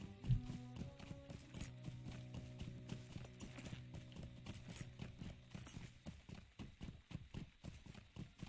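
Horse hooves clip-clop in a steady, rhythmic gait while riding through the Rivendell Valley in Lord of the Rings Online, close and clear, speeding into a faster beat toward the end over a soft musical background.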